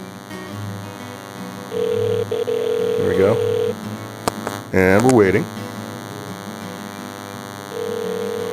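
A mobile phone call placed from inside a Faraday cage sounds through a handset held to the mic: a steady electronic tone with mains-like hum, interrupted by brief tonal beeps, while someone speaks over it.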